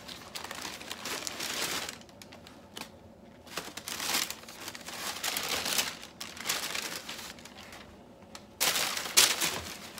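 Wax paper crinkles and rustles in loud bursts while a pair of Jordan sneakers is unboxed, handled close up with brief quiet pauses between the crumpling.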